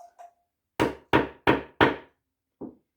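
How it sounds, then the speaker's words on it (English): A pool ball tapped onto a card block to press a divot into the table cloth: four sharp, evenly spaced knocks, then one softer tap after a pause, close and dry with silence between. "Place a straight ball on the card block and tap to indent the cloth."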